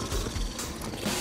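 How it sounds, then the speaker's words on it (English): Mechanical weapon reload in the video game Killing Floor, a dense clatter of ratcheting, gear-like clicks running steadily through a short burst at moderate level with no voices. "Watch it, I'm reloading."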